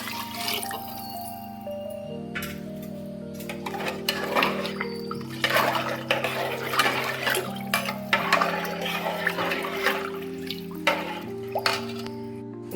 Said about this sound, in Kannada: ಒಟ್ಟಿಗೆ 6 ಗ್ಲಾಸ್ ನೀರು ಹಾಕ್ತಾ ಇದ್ದೇನೆ ನಾನು